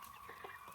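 Chickens cluck softly and briefly on a farm, a faint, short murmur of fowl sounds with no talk.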